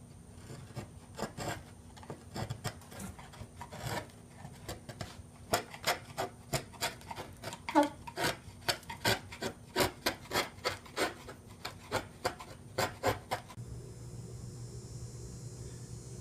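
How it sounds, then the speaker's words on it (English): Rubber strips pulled out of wood with a chisel while working on a houseboat, giving a long run of evenly paced scraping rasps that grow more regular, close and moderately loud, and then a steady hiss at the end. "now I can just pull the rubber out using my chisel"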